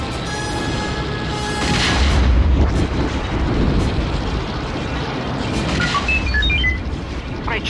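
Heavy laser and cannon surface fire booms across the Death Star in the Star Wars Rogue Squadron II game, loud repeated blasts over a roaring engine drone, with whistling high-pitched shots flaring near the end.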